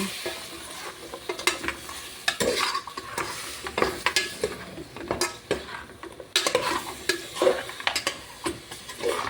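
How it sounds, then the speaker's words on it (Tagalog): Garlic, onion and pork sautéed in a pan for a Filipino vegetable dish, with a utensil repeatedly stirring and scraping against the pan in irregular bursts over a soft, steady sizzle. "At saka onion muna yung ginigisa natin. Ayan. Lalagyan na rin natin ng pork."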